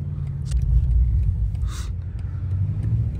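A BMW M8 Competition with a catless downpipe and Eventuri intakes drives along, its engine a loud, steady low rumble heard from inside the car, with a few brief higher clicks and a short hiss partway through.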